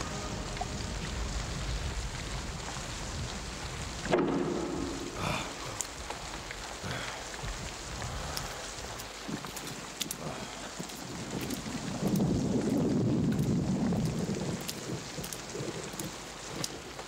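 Steady rain falls throughout with low rumbles of thunder, a heavier roll building near the end, and no voices over the storm.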